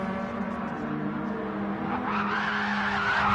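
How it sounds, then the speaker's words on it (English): A race car skidding with tire squeal in a racing video game, with a steady engine drone throughout and a rising squealing slide in the second half. "And Jerry's sliding that car"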